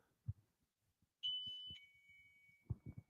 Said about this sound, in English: He has a shop bell, yeah.